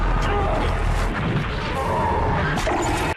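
An aircraft explodes in a heavy booming crash with rumbling debris, loud and close, sustained throughout with a sudden cutoff at the end.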